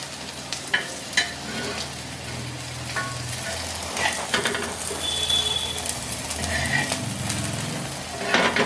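Potato cheese cutlet frying in hot oil, giving a steady close sizzle with occasional scrapes and clinks of a utensil in the pan.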